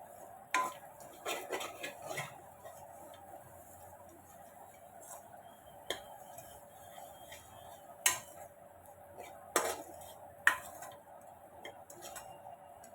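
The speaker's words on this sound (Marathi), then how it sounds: "आता हे सगळं आपण व्यवस्थित मिक्स करून घेऊया" A spoon stirring and scraping ingredients in a pan for sabudana khichdi, making sporadic metallic clinks and knocks against the pan over a steady low background hum, no speech.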